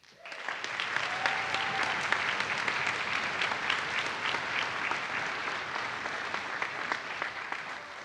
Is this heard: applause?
yes